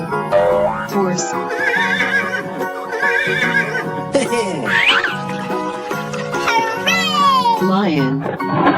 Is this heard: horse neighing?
yes